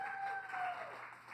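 An audience applauds at an event celebrating Asian women's representation, a brief steady wash of clapping with no voices over it.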